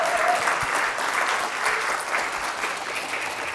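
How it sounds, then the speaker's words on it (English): An audience at a library talk gives a round of applause for the Cantigny hosts, a steady, even wash of many hands clapping that holds at one level throughout. "Could I ask you for a round of applause for our Cantigny hosts"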